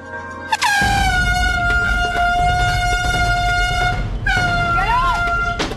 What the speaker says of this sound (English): This morning, we awoke to the sound of air horns. Very loud air horns